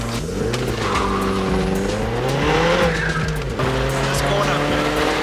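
Polo car revving flat out through the gears from 70 to 120, loud continuous engine drone with rising harmonics and tire noise, close inside the cabin, a voice speaking over it.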